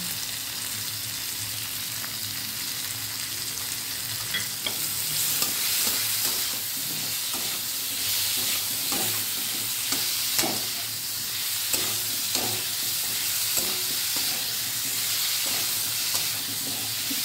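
Garlic paste and dried shrimp frying in hot oil, a steady loud sizzle with repeated scrapes and clacks of stirring throughout, no voices.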